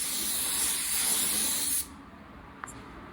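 A spray gun lays clear coat onto a panel with a loud, steady close hiss that cuts off abruptly, followed by near silence and a tiny click.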